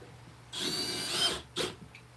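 Power drill driving screws into wood in a woodworking shop, one sustained whirring burst of about a second followed by a shorter second burst, fairly close and clear with no talking.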